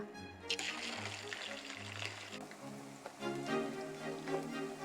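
Breadcrumbs fry in hot oil with a soft, steady crackle and sizzle, quiet and close, with brief low tones underneath.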